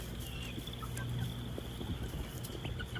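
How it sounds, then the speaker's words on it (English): Soft clucking from a group of young hens (pullets) close by on a farm, steady low murmuring calls over a continuous background hum. "These guys will be going in with the other chickens very soon."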